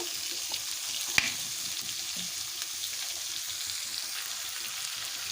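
Steady hot-oil sizzle from a kadai, crackling continuously at close range, with one sharp tap partway through and no talking.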